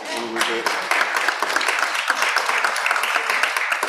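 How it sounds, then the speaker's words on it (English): An audience claps together at a social justice symposium, a dense, even spread of applause lasting a few seconds, with some voices mixed in underneath. "Just clap that up one more time for me."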